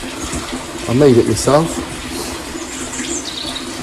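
Water runs and splashes in a homemade bakki shower filter beside a barrel filter, a constant rushing wash close by, while someone talks briefly over it.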